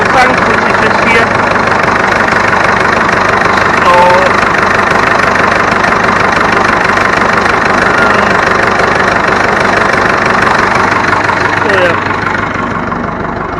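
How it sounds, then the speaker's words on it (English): A tractor engine idles loudly and steadily throughout with a constant low rumble and rattle, and a voice speaks faintly beneath it. "That wasn't clear enough over the sound of the engine."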